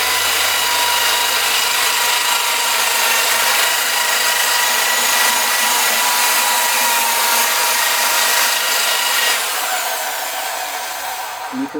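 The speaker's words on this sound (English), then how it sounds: "So what I'm going to do, wire wheel, brush, and just get rid of all of these." A wire wheel brush scrubs rust off an old steel wheel, a steady, loud, continuous whirring grind that holds for the whole stretch and eases slightly near the end.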